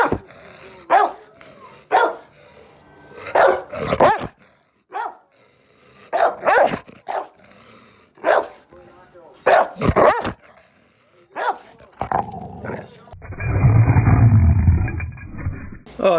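Max the bulldog and another dog bark repeatedly in loud, close bursts spread across the stretch, with some growling, followed by a low rumbling engine-like noise near the end.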